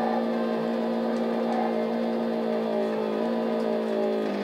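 Synthesized racing-car engine whine from the Famicom Disk System game F-1 Race, a steady, buzzy electronic drone with slight pitch shifts and faint background music beneath it.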